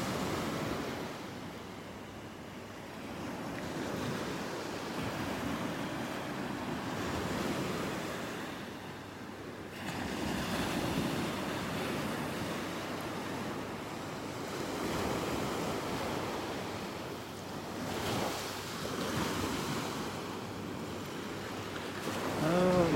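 Ocean waves wash steadily onto a beach in North Naples, Florida, a continuous soft roar with gentle swells in surge, some light wind buffeting the microphone, and no talk.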